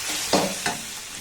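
Spices and tomato ketchup being stirred in a frying pan while making spicy veg momo sauce, a steady low sizzle broken by two brief scraping stirs, close and moderately loud.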